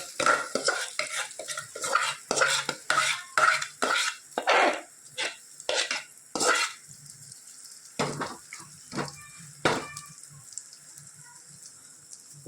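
Gujarati handvo batter goes into a hot pan and is stirred, giving rhythmic scraping strokes and bursts of sizzle at close range, loud then settling into sparser strokes with pauses.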